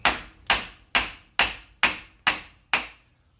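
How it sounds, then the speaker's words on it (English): A 2-pound hammer strikes a car axle shaft during an EG transmission removal. Seven sharp metallic blows land at a steady half-second pace, each fading quickly, clear and close with no talk. "back to my 2-pound hammer, take and hit it"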